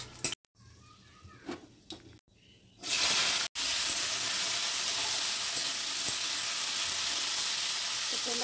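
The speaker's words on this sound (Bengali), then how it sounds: "আলুর তরকারিটা বসানোর জন্য আমি শুকনো লঙ্কা নিয়েছি আর একটু পাঁচফোড়ন দিয়ে দিয়েছি" Dry red chillies and panch phoron hit hot oil for a potato curry, setting off a loud, steady, close sizzle that takes over after a few quieter clattering moments.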